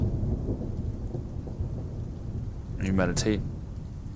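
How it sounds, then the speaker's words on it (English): Steady rain with a deep, rolling thunder rumble over desert plains, sustained throughout, with a short spoken phrase breaking in near the end. "as you hear the rain and the sound of the thunder echoing across the sky and across the desert plains."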